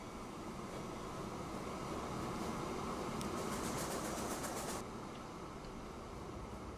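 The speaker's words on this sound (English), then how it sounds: "there goes my iron ore train" An iron ore train runs along rails in the video game Transport Fever 2, a steady rumbling roll that holds at even loudness throughout, with a brief higher clattering stretch midway and no speech.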